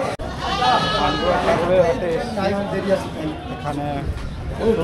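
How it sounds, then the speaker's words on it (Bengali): Goats bleat repeatedly at a large goat market in Pandua, West Bengal, where local and outside goats are traded. Several close and mid-distance bleats rise over steady crowd chatter and people talking. "প্রচুর দেশি ছাগল আসছে, বাইরের ছাগল আসছে"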